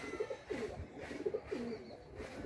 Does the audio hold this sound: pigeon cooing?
yes